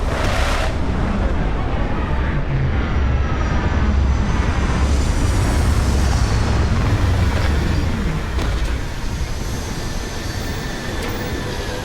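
Spaceship thrusters fire during a planetary landing in the video game Starfield, a loud sustained roaring rumble with whooshing layers that holds for the whole stretch and eases slightly near the end.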